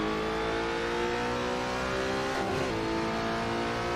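A Peugeot 407 WTCC touring car in a sim racing game, engine held at full throttle with a steady, dense, droning roar throughout and no speech.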